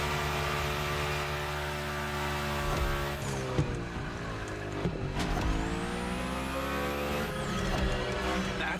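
A car drifts through a gymkhana course in The Crew Motorfest, its engine droning steadily while tire squeals rise and fall in long sweeping whines, with a few knocks and gear shifts along the way, loud and close.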